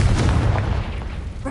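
A Confringo fire spell bursts in the video game Hogwarts Legacy, a loud booming blast with a heavy low rumble that fades over about a second and a half.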